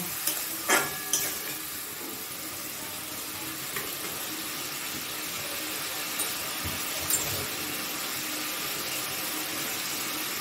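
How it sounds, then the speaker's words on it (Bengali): Grated tomato and spice masala stir-fried in a pan for a banana-flower kofta curry, giving a steady soft sizzle with a few sharp scraping clicks near the start, close and alone with no talking. "গ্রেট করা টমেটোটা দিয়ে আমি মশলাটা এখন ভালো করে একটু কষিয়ে নেব"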